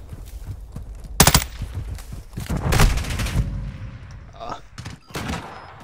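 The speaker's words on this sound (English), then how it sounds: "Didn't expect to get shot in the back by two different people" Gunfire in the Modern Warfare II video game: sharp bursts of shots and rapid fire in several clusters, with game noise and clatter in between, loud and close.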